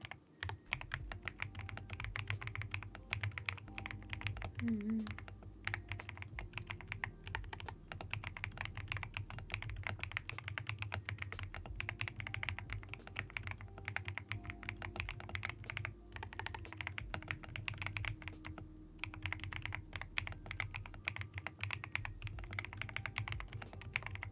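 Fast, continuous typing on a thocky marshmallow mechanical keyboard gives dense, even keystroke clacks close up, with no pauses over the whole stretch and a faint low hum underneath.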